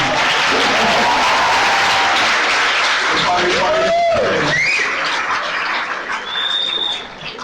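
A conference audience applauds as a speaker is called onto the stage, a steady clapping bed with a few high whistle-like tones and voices mixed in.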